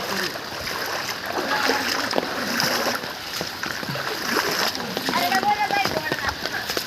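Feet wade and slosh through floodwater inside a house, with steady close splashing and stirring of water throughout and voices present underneath.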